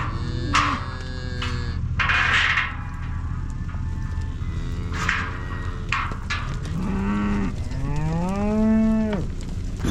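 Cattle moo repeatedly at the first hay feeding of the year, several loud, close calls of varied pitch over a steady low hum, with no talking.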